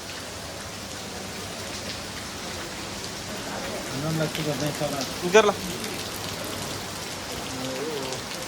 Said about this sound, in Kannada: ಮಳೆ ಮಾತ್ರ ಹೆಂಗ್ ಹೊಡಿತೈತೆ ಅಂದ್ರೆ ಅಲ್ಟಿಮೇಟು